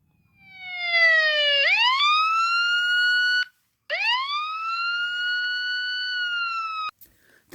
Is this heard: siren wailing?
yes